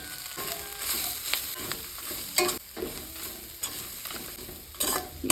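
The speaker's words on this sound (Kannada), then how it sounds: "ಈ ಥರ ಇದನ್ನು ಚೆನ್ನಾಗಿ ಫ್ರೈ ಮಾಡ್ಕೊಳ್ಳುವ" Grated coconut with coriander and cumin fries in a pan for a greens soup, giving a soft sizzle with intermittent scraping and stirring strokes, fairly quiet and close, with no talking.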